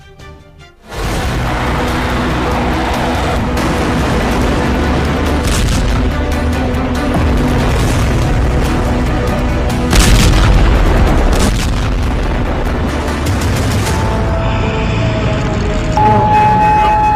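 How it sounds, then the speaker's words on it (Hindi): Loud, continuous booms and blasts from bombing of an oil tanker and missile barrages on military bases, with a heavy rumbling wall of explosions and a sharper burst near the middle. "तेल के जहाज पर बमबारी, सैन्य अड्डों पर मिसाइलों की बौछार।"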